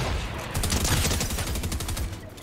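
Rapid assault rifle fire in a Fortnite match crackles in quick, dense bursts, loud and close, with no talking over it.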